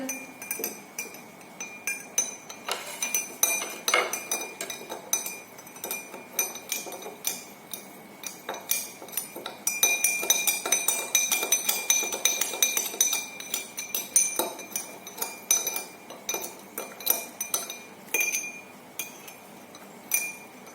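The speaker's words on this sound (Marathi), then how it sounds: "साखर तू चमच्याने विरघळव त्याला" A spoon stirring sugar into water in a glass, with rapid, continuous bright clinks and taps that come in busy bursts, close and clear, with no talking.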